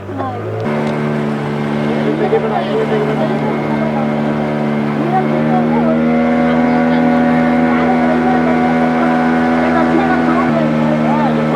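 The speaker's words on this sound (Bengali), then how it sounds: "বোটটা এক্সট্রিমলি দুলছে, জানি এই ক্যামেরায় কিছুই দেখা যাবে না" A boat on a backwaters ride in Pondicherry rocks heavily while its engine hums in a steady, loud drone with a low throbbing tone. Water noise sits underneath, and people talk over it.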